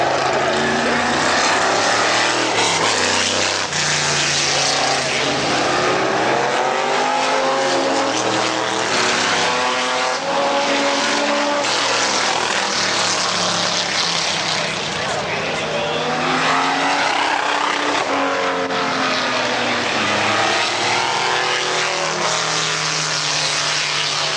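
Vintage race cars storm through turn 3 at Laguna Seca, their engines snarling loudly and continuously with rising and falling pitch as they pass, while a commentator talks over the roar.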